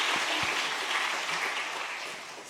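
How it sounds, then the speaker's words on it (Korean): Steady, dense applause from a church congregation, sustained throughout and tapering slightly toward the end. "다시 한번 박수로 100일 잔치 하신 분들 한번 축하해 드리도록 하겠습니다"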